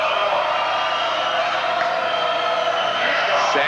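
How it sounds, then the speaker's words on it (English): Santa Cruz High crowd at a 1990 boys basketball game at Aptos High, roaring and whooping steadily to rattle a free throw shooter, a dense loud wall of voices throughout. "Santa Cruz crowd trying to disrupt Mike Jones"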